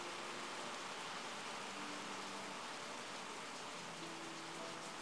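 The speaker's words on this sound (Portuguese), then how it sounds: "esse rumor de chuva caindo no teto, no telhado, exatamente a 1h da madrugada" Steady rain falls on a roof in the middle of the night, a dense continuous hiss with no pauses, no voices and nothing else standing out.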